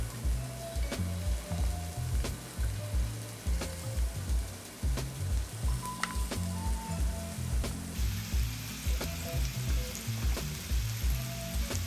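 Meatballs frying in hot olive oil in a pan, with a steady close sizzle and regular low bumps and scrapes from moving them around, which grows brighter and louder toward the end.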